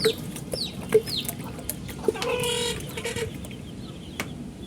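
Backyard hens cluck nearby at feeding time, giving short, scattered calls over a soft ambient rumble, with a brief noisy rustle partway through.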